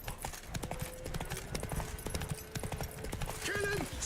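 Horse hooves clip-clop at a steady gallop while riding through The Witcher 3, paired with in-game ambience, musical tones and occasional voices over a constant, fairly loud bed.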